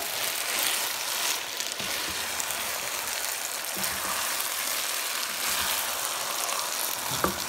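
Rice and meat simmer in a pot with a steady sizzle, punctuated by scattered scrapes and light clinks of a spoon stirring, with no voices.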